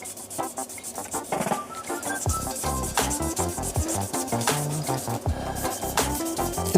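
A gold resin bowl is hand sanded on the lathe with soft touch pads, giving a continuous close, rhythmic rubbing and scratching that stays steady throughout.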